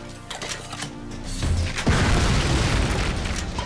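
An explosion in the video game Ion Fury goes off nearby, a heavy boom that swells into a long roaring, crackling rumble that slowly fades.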